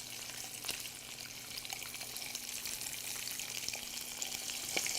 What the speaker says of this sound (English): you have to fry it on the side